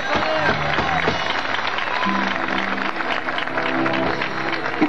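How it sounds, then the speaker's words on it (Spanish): A concert crowd applauds a new band member during a farewell recital, steady clapping mixed with sustained tonal sound and some voices in the hall. "Fuerte aplauso para Beto."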